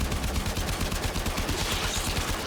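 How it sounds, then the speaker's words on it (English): Rapid automatic weapon fire in a video game, aimed at an alien hive: a dense, steady stream of close, loud shots rattling without pause. "Destroy it with weapon fire."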